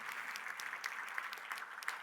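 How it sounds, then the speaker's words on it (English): Audience applauding a corporate guest at a business event in Dubai, a brief, faint, even patter of clapping. "round of applause for Emirates Flight Catering"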